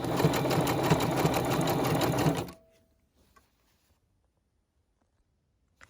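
A sewing machine runs a zigzag stitch on swimsuit leg-hole binding in a fast, even mechanical whir for about two seconds, then stops abruptly, leaving near silence with a few faint clicks.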